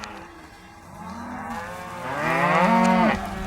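A cow bellows on a farm at weaning time, one long low moo that swells and climbs to a loud peak near the end, close and alone.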